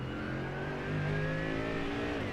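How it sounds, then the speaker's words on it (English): German GT3 race car in a sim racing game, its engine holding a steady drone while a high gearbox whine runs over it, loud and continuous, with no voices. "Listen to the gearbox that winds away with it too."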